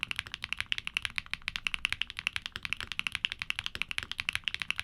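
Rapid, steady typing on a mechanical keyboard fitted with Keygeek switches, in this case the Mirror Lake, a hollow-sounding switch, giving a close, even stream of crisp clacks with no voices.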